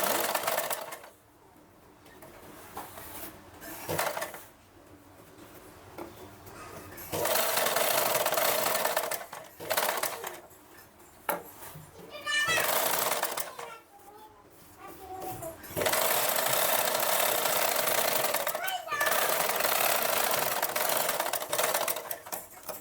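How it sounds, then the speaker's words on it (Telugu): A sewing machine stitches a large round stitch on blouse cloth for cut-work, running in loud bursts separated by pauses, with someone talking between the runs. "ఒక రౌండ్ కుట్టు అయితే వేసుకోవాలి, పెద్ద కుట్టు పెట్టుకొని"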